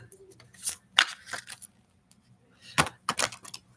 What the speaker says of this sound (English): I'm gonna learn how to shuffle faster.